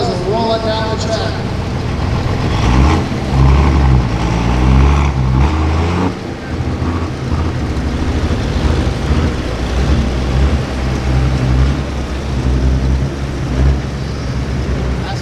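A 4x4 truck with twin exhaust stacks in a smooth bore truck pull roars steadily down the pull track, a loud, sustained engine drone, with an announcer's voice over the top of it throughout.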